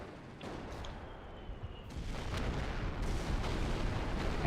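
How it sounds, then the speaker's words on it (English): Rocket barrage from a Stuka in Company of Heroes, a World War II strategy game: a dense, continuous roar of explosions and distant booms that swells louder partway through and keeps rumbling without letup. "we do have the incendiary barrages as well from the Stuka, which are going to do additional damage over time after the rockets have fallen"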